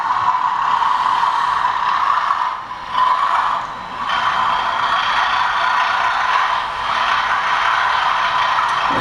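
A sound-fitted OO gauge model locomotive runs on slightly dirty track, giving a steady mechanical hum and rattle with brief dips, continuous and fairly close throughout.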